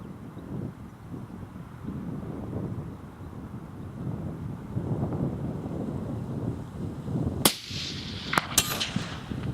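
A sharp, loud rifle shot cracks out over steady wind noise in an open outdoor range, followed by a couple of fainter clicks and knocks shortly after.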